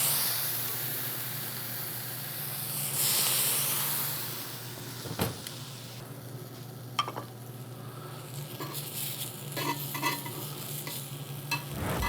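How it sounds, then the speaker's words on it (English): Tortillas for turkey birria tacos frying in a hot pan, giving a steady sizzle with brief stirring and utensil scrapes, loud and close throughout with no talking. "We're gonna take some of our tortillas here. I'm just gonna do a couple, right? Right back in the pan."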